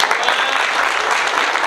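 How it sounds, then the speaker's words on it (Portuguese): A group of team players and staff clap together in a dressing-room huddle for two teammates, a steady, dense, close burst of applause that holds throughout. "Vocês me permitem uma salva de palmas para os dois?"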